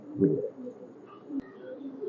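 A short, low coo from a red-throated (golaylal) highflyer pigeon at a loft in Khulna, followed by quieter murmuring and a faint click, close and soft.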